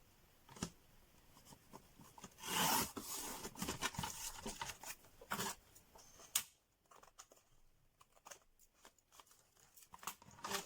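Paper being trimmed for a handmade page background, with a series of close, quiet snips and rustles at an irregular pace and brief bursts of crinkling.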